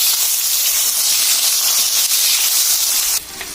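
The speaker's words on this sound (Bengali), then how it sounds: "আর আমরা এই তেলের মধ্যে দিচ্ছি জিরা আর কেটে রাখা আলু।" Cumin seeds and cut potatoes hit hot oil in a pan, giving a loud, steady sizzling hiss that holds evenly and then drops in intensity near the end.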